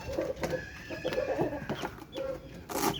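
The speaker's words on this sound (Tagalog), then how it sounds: "Ito kasi sisiw. Sisiw na maliit." A small chick peeping in short, repeated high chirps at close range, fairly faint, with soft background noise and clucking-like calls mixed in.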